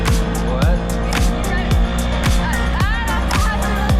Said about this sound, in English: We got some concerned looks as we motored by because the motor was really loud